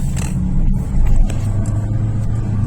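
A car pulls away with a loud, close engine drone and low rumble. A brief rise in revs marks the acceleration, and there is no talking over it.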